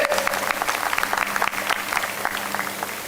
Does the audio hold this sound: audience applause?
yes